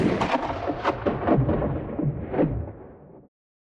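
Thunder cracks and rumbles in a lightning storm, several sharp bursts over a rolling low roar for about three seconds, loud and close, then cutting off abruptly to silence.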